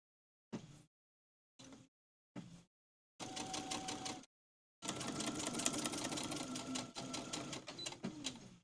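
A sewing machine stitches a fabric-covered rope bowl, running first in three short bursts and then in two longer steady runs, close and fairly quiet.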